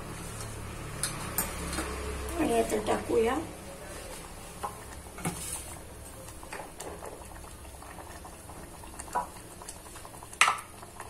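A potato mixture simmers in a pot with a soft, low bubbling that stays in the background, broken by a few clinks of utensils, while someone talks over it.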